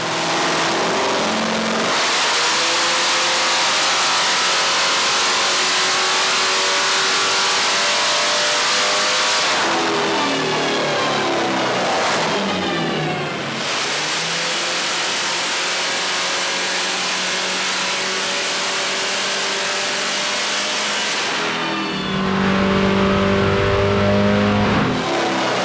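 A Hellcat-swapped Dodge Viper roars through repeated full-throttle revs on a dyno. Loud, close engine pulls climb in pitch and drop off between runs, with no talking.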